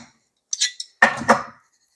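Sourdough bread ingredients with eggs get stirred in a bowl, a few close, brief clinks and scrapes of utensil against dish in two quick bursts separated by silence, with no talking.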